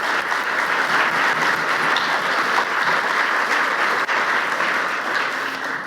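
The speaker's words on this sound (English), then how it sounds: "Let's give them a round of applause." Sustained, dense applause from a seminar audience, steady and fairly loud throughout with no gaps, filling the room evenly from start to finish.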